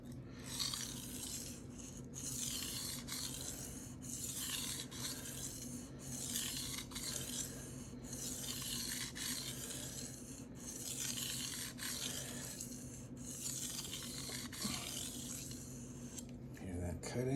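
A blade is stroked back and forth on a coarse Shapton Rockstar 500 whetstone, giving a continuous gritty rasping scrape in rhythmic, rubbing passes, close and steady over a low background hum.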